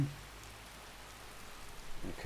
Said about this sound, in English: And it's raining, so it's pitch black